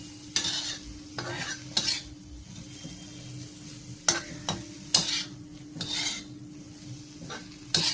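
Bitter gourd chakli masala is sautéed in a pan, a spatula scraping and stirring in repeated bursts over a low continuous sizzle, with metallic clinks against the pan at irregular intervals.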